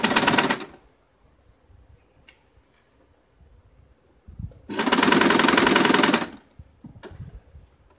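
A sewing machine stitching a cloth bag made from leftover fabric, running in two bursts, a short one at the start and a longer steady whirring run later, with quiet handling sounds between.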